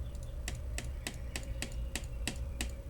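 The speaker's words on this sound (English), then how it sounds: "That sound is me loudly clicking the mouse button." Sharp, loud clicks of a computer mouse button ring out at a steady, unhurried pace, about eight distinct taps over a quiet background hum, with no one speaking.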